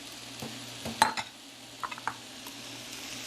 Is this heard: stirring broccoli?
yes